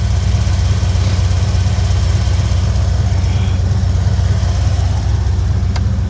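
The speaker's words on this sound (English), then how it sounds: "It's actually on high idle right now" A Ford engine with about 93,500 miles, recently repaired for a severe oiling problem, runs steadily on high idle. Its low, even rumble holds close and loud throughout, with no talking.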